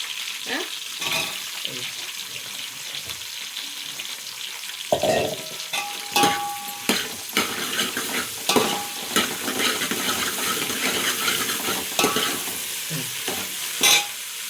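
Onions and cucumbers sizzle in a pan while being stirred, a constant frying hiss broken by repeated scrapes and clinks of the spoon, close and fairly loud.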